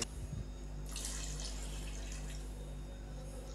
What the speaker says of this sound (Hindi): अभी मैं इसके अंदर 1 कप के करीब पानी और डालूंगा ताकि जो आम है वो पानी के अंदर अच्छी तरह डिप हो जाएं।